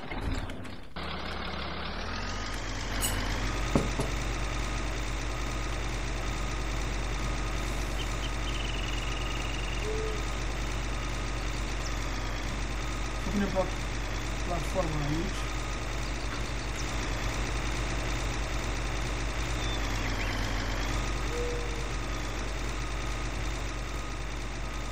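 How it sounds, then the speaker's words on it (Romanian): A new farm tractor runs steadily at idle, its low engine drone continuous and close throughout, with a high whine and occasional clanks over it. "Acum o să lucrăm cu tractor, cu acest tractor nou de la fermă."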